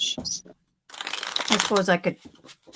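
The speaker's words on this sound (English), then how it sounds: "I like the sound of shuffling." Playing cards shuffled close to a microphone, a quick riffling burst under a person's casual speech.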